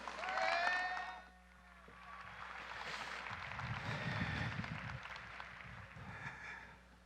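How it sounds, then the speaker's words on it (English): Audience applause at a UNLV Creates 2019 event, a broad wash of clapping rising and falling over several seconds in a large hall, following a brief burst of other noise at the start. "So please give Ben a round of applause"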